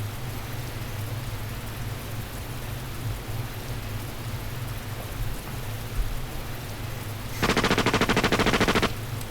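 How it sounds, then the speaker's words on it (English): A steady rain-like hiss fills the clip, then near the end a loud burst of rapid automatic gunfire rattles for about two seconds in the visual novel The Fruit of Grisaia. "he heard the first sounds of gunfire"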